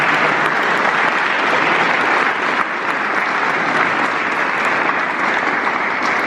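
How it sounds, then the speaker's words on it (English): Loud, sustained round of applause for elected officials at a legislative caucus event, dense crowd clapping that stays even throughout. "let's give our elected officials here a round of applause once again"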